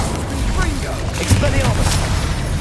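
Incendio fire spell cast in the video game Hogwarts Legacy, a short booming burst over dense, continuous combat effects and ambience.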